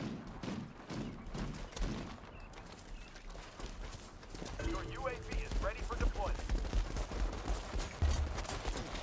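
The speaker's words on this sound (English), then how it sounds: "Why is the tank shooting like it's so quiet?" Gunfire and tank cannon shots in a World War 3 combat game, a rapid irregular burst of sharp impacts followed by heavier booming blasts and rumble, fairly muffled, with scattered voices.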